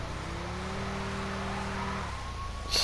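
In GTA Online, a Sherp ATV engine idles with a low steady hum and whine, then the pitch jumps as it revs near the end, closing with a short harsh burst.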